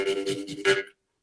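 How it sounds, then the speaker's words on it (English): A jaw harp twangs steadily while the player breathes in and out through it, giving a buzzing drone with pulsing breathy swells, close and fairly loud before stopping abruptly. "And then if you breathe in and out like this, then it sounds like this."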